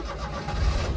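A JDM car engine cranks and catches in a garage, a brief rumbling start that swells in loudness partway through and settles into a low, steady running note.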